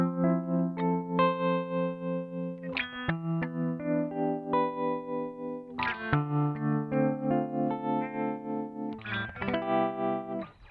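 Electric guitar played through a tiny Ibanez TRMINI tremolo pedal set to a slow wave, its sustained chords swelling and fading in a steady, gentle pulse, clean and alone with no talk.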